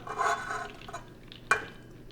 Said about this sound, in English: now we put the ziti together over here with the ricotta